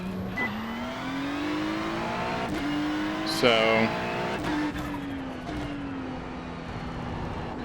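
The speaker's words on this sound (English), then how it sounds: "we're going to get in the car, run a few laps at regular brake bias" A race car in the iRacing simulator runs laps with its engine note climbing in repeated rising sweeps, each cut off by a gear change, with brief tire squeal. It sounds fairly quiet and steady, and someone speaks a single word at the start.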